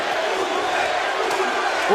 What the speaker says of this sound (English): the crowd, thunderous chants of Bute